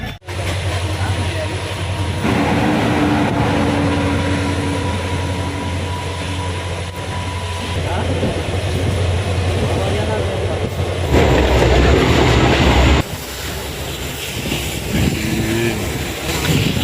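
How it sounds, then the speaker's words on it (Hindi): The Mangala Lakshadweep Express runs at Kasara station with a steady, loud rumble and wheel noise that swells near the end. A low engine hum runs underneath. "अब अपनी ट्रेन कसारा स्टेशन पर पहुंच गई है।"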